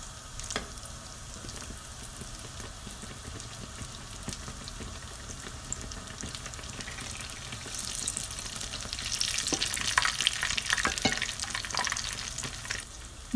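Moroccan beignet dough fries in very hot oil, a soft steady sizzle that swells into a louder, bubbling crackle halfway through as the dough puffs up.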